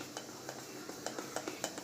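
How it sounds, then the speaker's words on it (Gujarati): Chilli fritter batter of rice flour and soda is stirred with a spoon in a bowl, making soft, faint scraping with light, irregular clinks against the sides. "હવે બધું સરસ મિક્સ કરી લઈશું"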